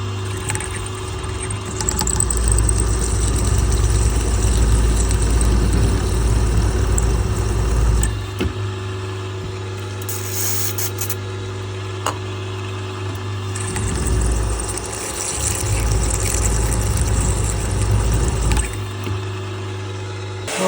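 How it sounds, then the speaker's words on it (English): A drill with a freshly sharpened bit bores through seized cylinder head bolts on a two-stroke jet ski engine, a loud low motor drone running in long stretches with a quieter gap in the middle, no talking. "I've sharpened a nice cutting point on the drill. And we'll go down and bore it all the way through."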